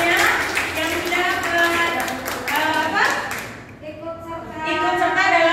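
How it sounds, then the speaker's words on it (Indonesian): Audience applauding, brisk overlapping hand claps from a seated group at an education training session, steady and close, under a voice speaking over a loudspeaker. "tepuk tangan buat Bapak Ibu semuanya"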